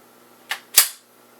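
The slide of a Springfield XD 9mm pistol is racked in two sharp metallic clacks close to the listener. A lighter click comes first, then a louder snap a quarter-second later, both in a quiet room.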